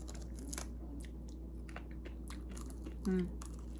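Someone bites and chews crunchy air-fried mojarra fish, giving irregular close crunches over a steady low hum, with a brief murmur of voice near the end.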